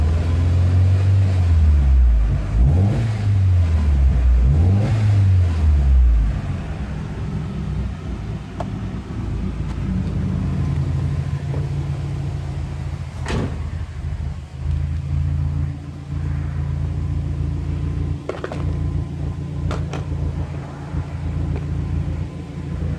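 A Subaru Forester XT with an upgraded turbo, warm and running, its engine rising and falling in a few swooping revs before settling into a steady, loud rumbling idle with occasional clicks and no talk.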